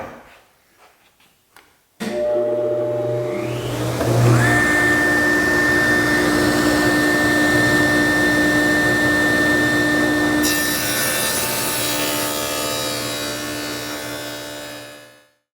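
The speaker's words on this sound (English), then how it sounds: "I got a 3/4 inch dado stack, and I'm just going to run this piece through to get that notch in the bottom" A table saw fitted with a 3/4 inch dado stack cuts a notch in a wooden workpiece in a woodworking shop. The motor spins up loudly, then one sustained, steady whining cut runs for over ten seconds before winding down, with no voices.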